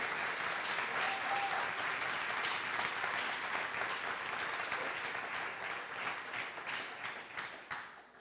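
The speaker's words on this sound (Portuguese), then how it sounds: "quer dar a você aí da sua casa uma forte e calorosa salva de palmas" Warm applause answering a call for a round of clapping, probably from a church audience, dense and steady throughout before thinning slightly toward the end, with no speech over it.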